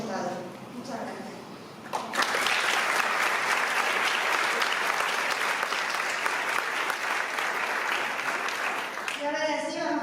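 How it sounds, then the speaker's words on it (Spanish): An audience at a theatre competition award ceremony breaks into loud, warm, sustained applause that lasts about seven seconds. Someone speaks before the clapping and speaks again as it ends. "Es el aplauso más caluroso y entrañable de todos los que hemos dado."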